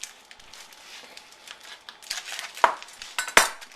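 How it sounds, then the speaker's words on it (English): A plastic package of fresh rice noodles being cut open with a knife, quiet crinkling and rustling of plastic building to a few sharp clicks and snaps near the end, close and otherwise quiet. "Just cut open the package."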